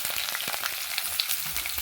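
Tempering splutters in hot oil: a busy, close crackle of popping bursts over a constant frying hiss, with no voices.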